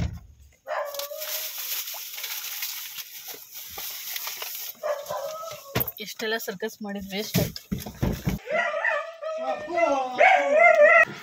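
Dogs bark, whimper and howl in bursts, some yelping high-pitched, mixed with a person talking and other noisy commotion.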